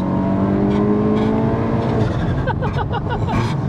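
A 520bhp widebody Cupra estate accelerates hard, its engine revving loudly and climbing in pitch before the shift into second gear, then pulling on with a rasping note, close and loud.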